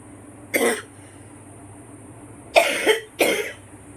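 Three distinct coughs, one short cough followed by a pair in quick succession, close and fairly loud against a quiet room.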